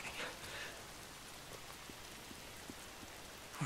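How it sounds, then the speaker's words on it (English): Rain falls steadily in the Days Gone video game, a soft continuous patter with scattered individual drops, fairly quiet and heard alone without talk. "Oh, damn rain. If it's not the freaks, it's the goddamn rain."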